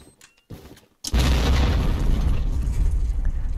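A C4 blast in the Roblox video game goes off as a sudden loud boom, followed by a long, dense, roaring rumble that carries on to the end, with a few faint clicks before it.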